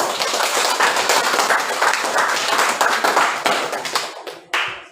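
Group 1 in a classroom receives applause: dense, sustained hand clapping from many students nearby, tapering off near the end with a few final isolated claps.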